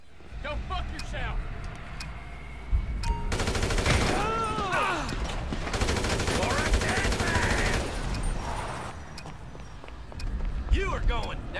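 Bursts of rapid automatic gunfire and scattered shots ring out in a Grand Theft Auto V street scene, loud dense volleys mixed with shouting voices, car noise and running footsteps.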